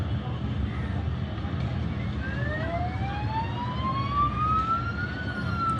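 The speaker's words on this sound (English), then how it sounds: "If I introduce a siren noise now," A wailing emergency siren is played to a detector prototype, its pitch sweeping steadily upward over a constant low rumbling background noise, moderately loud and continuous throughout.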